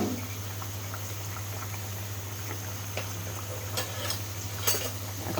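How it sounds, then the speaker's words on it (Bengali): Potatoes stirred in a cooking pot as they simmer for a rupchanda fish curry, giving a steady low bubbling hum with light scraping and occasional soft clinks of a utensil against the pot. "এখন আমি ঢাকাটা খুলে একটু নেড়ে দিব।"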